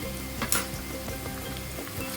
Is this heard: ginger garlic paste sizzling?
yes